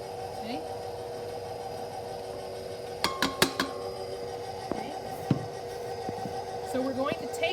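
An electric mixer churns chocolate chunk cookie dough with a steady low hum, broken by several sharp metallic clinks and taps against the bowl, close up and moderately loud.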